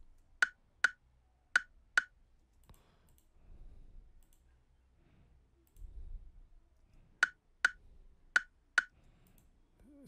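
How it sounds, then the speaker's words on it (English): A chopped percussion loop from an afrobeats beat plays solo: a quick group of four sharp clicky hits, a quiet murky gap, then another group of four crisp hits. "I have this percussion here, which sounds like this."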